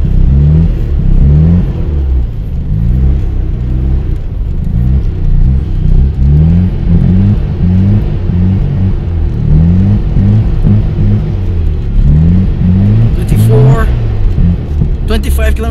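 A car drifting on the frozen surface of Yachiho Lake in Nagano, its engine droning and revving in rising and falling surges close by, with a short sharp scrape near the end.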